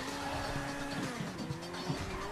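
Car tires squealing with a sustained, wavering screech during a drift in GTA V, over a constant engine drone, loud and unbroken for a couple of seconds.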